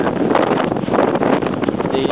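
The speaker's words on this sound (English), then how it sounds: "it's still kind of windy out here" Strong wind during Hurricane Sandy buffeting an outdoor microphone, a loud continuous roaring rumble with gusty swells and no pauses, close and overpowering.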